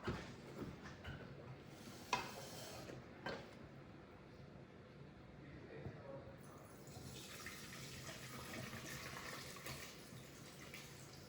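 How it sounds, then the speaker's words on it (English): Strained pot roast juice pours steadily from one pot into another for gravy in a home kitchen, a continuous near splashing trickle with clinks of cookware, growing brighter and fuller toward the end. "I'm gonna strain this juice to make the gravy. In order to do that, I need to have these and pour it into the other pot."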